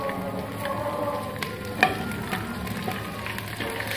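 Tomatoes and green chillies fry in a pan with browned onion, ginger and garlic, giving a steady close sizzle with occasional stirring clicks and taps.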